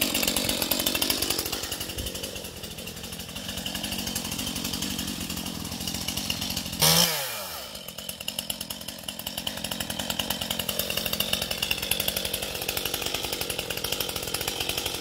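A chainsaw cuts into a storm-damaged birch during felling, its engine buzzing loud and steady with a brief surge and dip midway before it resumes cutting.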